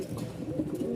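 Pigeons kept in a breeder's loft, including Giribaz birds, coo in low, soft, throaty murmurs, close by and steady.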